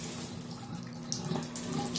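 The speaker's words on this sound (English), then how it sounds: "Now you hear the water and you see it going down the drain." Water rushing and gurgling down a hotel bathroom sink drain, a continuous close splashing wash with no voices.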